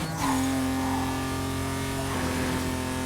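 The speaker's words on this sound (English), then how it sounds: "How about the turbo whistles on this thing? That is some HKS blow off." Turbo whistle and HKS blow-off valve of a tuned car in the Need for Speed Carbon racing game, a steady high whine over engine drone with a pitch shift partway through, loud and continuous.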